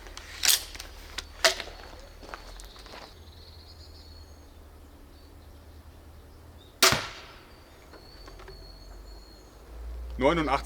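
EK Archery Adder crossbow fitted with new 190 lb limbs firing a 13 gram bolt: a sharp snapping release near 7 seconds, with earlier clicks and a later burst of noise around it.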